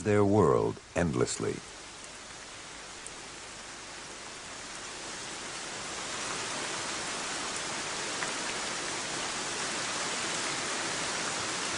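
A heavy tropical rainforest downpour, a dense, even roar of rain that builds slightly and holds steady for many seconds, following a brief burst of a voice speaking at the start.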